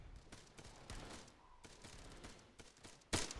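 Distant rifle gunfire crackles in a military shooter game, scattered shots through a noisy background before one sharp, louder report near the end.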